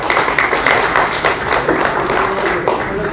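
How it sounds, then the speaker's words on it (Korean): An audience applauds a keynote speaker being introduced at a Korean political forum, a steady wash of many hands clapping that fills the room at an even level for a few seconds, with no talk over it. "큰 박수 부탁드리겠습니다"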